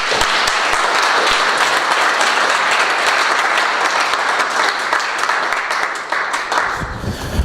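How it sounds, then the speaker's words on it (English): Audience applause for Steve, a speaker at a 2016 talk on desistance and recovery from addiction: a steady, dense clapping from a room of people, loud and sustained for several seconds before thinning slightly at the end. "So big round of applause for Steve"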